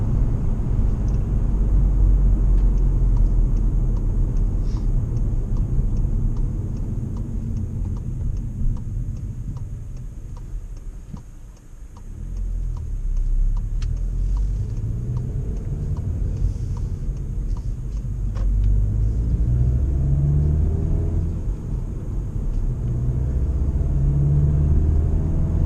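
Car driven sedately, a steady low road rumble and engine drone that holds throughout with faint ticking above it and a brief dip midway, no voices.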